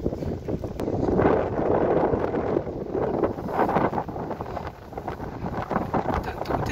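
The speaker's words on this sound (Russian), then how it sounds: "Ветер с моря холодный." Gusty cold wind off the sea in Yalta buffets the microphone in a steady, roaring rush, with a low rumble underneath and no voices.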